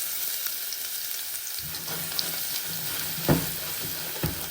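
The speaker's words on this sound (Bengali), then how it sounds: "এই যে আমি রসুন কেটে রেখেছিলাম কুচি করে ওটা আমি দিয়ে দিচ্ছি" Finely chopped garlic dropped into hot oil for a tempering, giving a steady close sizzle with a few faint utensil taps and a brief stir, fairly quiet.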